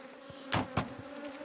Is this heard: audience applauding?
no